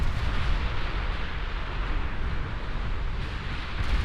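Naval gunfire from warships in a 1920s German fleet battle in Ultimate Admiral Dreadnoughts, heavy shelling aimed at a light cruiser, a dense continuous rumble of booming cannon fire and explosions, loud and sustained with no talk.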